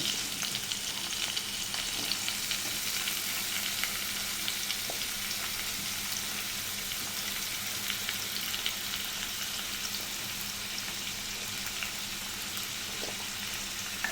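Onions, shallots, garlic and green chilies sautéing in a pan, giving a continuous even sizzle with a fine crackle, close and steady for the whole stretch with no speech.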